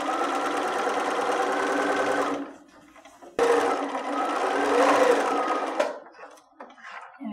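A sewing machine runs a quarter-inch seam with a regular stitch, whirring steadily and loud at close range in two bursts separated by a brief pause, with a short final run at the end.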